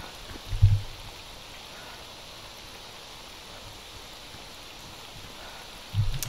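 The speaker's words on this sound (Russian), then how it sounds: "Дождик." Steady, faint broadband hiss of rain falling in S.T.A.L.K.E.R. Anomaly, a continuous wash running throughout, with a couple of brief low thumps near the start and at the end.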